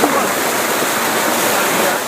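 Water rushes loudly and steadily through the pipes of a weir under construction instead of spilling over the top, a close, continuous roar with no pauses.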